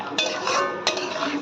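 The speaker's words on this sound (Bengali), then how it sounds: "ভালো করে মিক্স করে নিয়ে মশলাটাকে মশলাটাকে কষিয়ে নিতে হবে।" A spoon scrapes and clanks twice against a pan while spice masala with Kashmiri chilli powder is stirred and fried, with a dense sizzling hiss between the two strokes.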